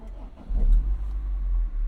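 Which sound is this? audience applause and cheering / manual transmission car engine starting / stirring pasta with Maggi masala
manual transmission car engine starting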